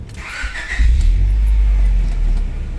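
A fifth-generation Honda Prelude engine with a non-stock exhaust cranks briefly with a whine, then fires into a loud low rumble that holds steady at idle.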